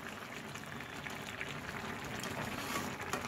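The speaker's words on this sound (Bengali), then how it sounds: "চাট মশলা, ঘি সব কিছু দিয়ে আর একটু ফুটিয়ে নিচ্ছি" Curry gravy with coriander leaves, chaat masala and ghee for a potato, cauliflower and soya chunk dalna bubbles at a steady simmer, a dense continuous hiss with faint pops and no talk.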